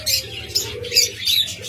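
A cockatiel pair calls from a cage, four short bright chirps in a loose rhythm, close and fairly loud over a low background hum.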